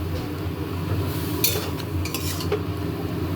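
Vegetables dry-frying in a pan without added water, a soft continuous sizzle broken by a few sharp scrapes and clinks of a spatula stirring against the metal.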